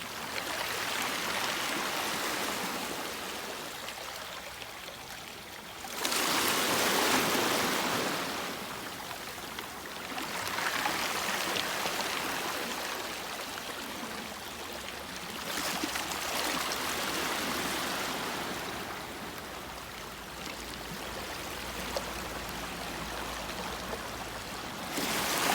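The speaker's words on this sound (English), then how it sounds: "I'll just sit here with the ocean for a minute." Waves wash in and recede along an ocean shore as the tide comes in, swelling in broad, rhythmic surges every few seconds with a steady hiss between them, close and moderately loud, with no talking.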